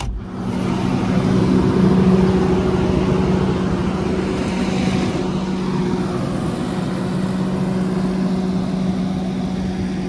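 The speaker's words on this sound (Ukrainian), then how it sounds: "Так, якраз під'їхав трактор," A tractor pulls up at a wheat field where a sprayer is being refuelled, its engine a loud, steady, close-up drone with a low hum that holds throughout, and no talking.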